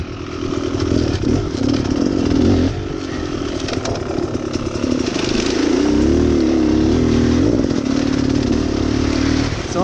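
A 2018 Beta Cross Trainer 300 two-stroke motorcycle lugs along in third gear off-road, its engine note droning steadily and loud throughout with slight pitch wavers as throttle changes.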